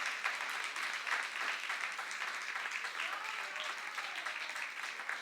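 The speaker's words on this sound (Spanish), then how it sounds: "Denle un aplauso, Señor." A church congregation applauds during a worship service, a steady wash of many hands clapping at a moderate distance throughout, fairly soft.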